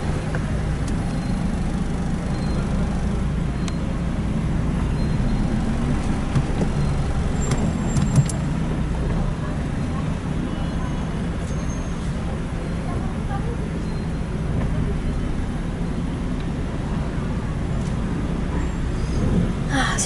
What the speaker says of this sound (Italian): Siamo ancora nel traffico da 26 minuti.